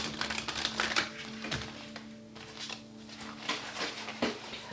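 A deck of tarot cards being shuffled by hand, with quick riffling taps and soft slaps in uneven bursts, close and fairly loud over a low steady hum.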